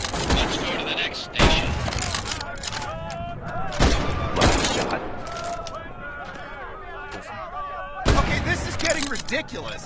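K98 bolt-action rifle shots ring out in a Medal of Honor: Above and Beyond VR game. Four sharp, loud cracks come at irregular intervals, with voices speaking between and over them.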